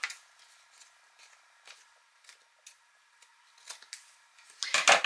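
Scissors trim excess Tyvek from a mini album, a string of light, crisp snips and clicks close by, growing denser and louder with rustling toward the end.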